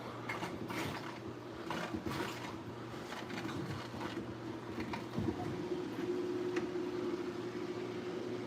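Water splashes steadily out of a fish tank filter's outlet under a low, constant motor hum, close by, with no one speaking.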